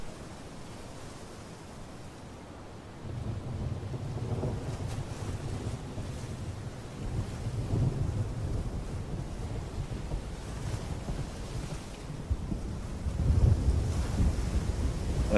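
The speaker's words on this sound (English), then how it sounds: "Nice thunderstorm going on in game." A distant thunderstorm in the Fishing Planet video game rolls in as soft low rumbles swelling several times over a constant windy, sea-like hiss, with no talking.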